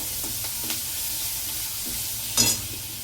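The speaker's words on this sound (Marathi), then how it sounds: "पुन्हा एकदा चांगलं परतून घ्यायचं।" A ground paste of green chili, garlic and coriander sautéed in a hot tempering, giving a steady sizzle with occasional spatula scrapes and a louder stir near the end.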